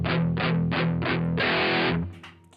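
Distorted electric guitar plays a palm-muted riff: four short chugging bursts, then a longer ringing chord that fades out, loud and close with no voice.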